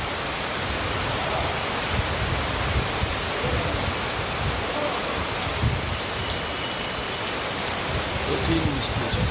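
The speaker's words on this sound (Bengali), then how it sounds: "প্রচুর বৃষ্টি।" Heavy rain pours down during a storm with strong wind, making a dense, constant roar of drops on surfaces. Speech may be faint under it.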